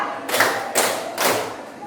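Three sharp, slightly reverberant hand claps in steady rhythm during a counted classroom ice-breaking clapping game, close and fairly loud.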